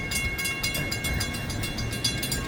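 A Florida East Coast Railway freight train slowing near a siding: a dense, steady rumble of rolling cars with rhythmic clatter, loud and close, without talk.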